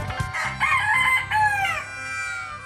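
A rooster crows loudly and close by, a full drawn-out cock-a-doodle-doo preceded by a few short clucks.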